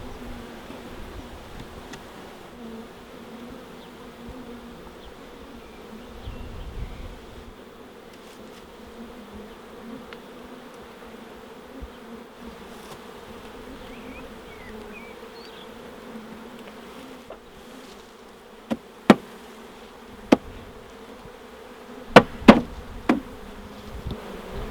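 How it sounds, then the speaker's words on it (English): Honey bees drone in a continuous low, steady buzz around an open hive being moved into new hive boxes, with a few sharp knocks of wooden equipment near the end. "No wonder we got some bees in here."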